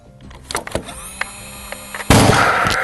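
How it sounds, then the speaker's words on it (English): A pneumatic nail gun drives a nail into HardiePlank fibre cement cladding with a sudden loud bang, followed by a sustained hiss of compressed air, after a few scattered handling knocks. "Take our nail gun"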